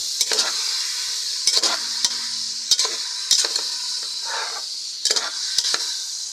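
Pork sizzles loudly in a hot frying pan, with intermittent sharp clinks and scrapes of a utensil stirring against the pan.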